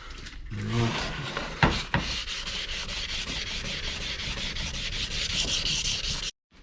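Wet sanding a Subaru GC8 gauge pod by hand, a continuous close rasping rub with steady back-and-forth strokes, briefly interrupted near the start, then stopping abruptly.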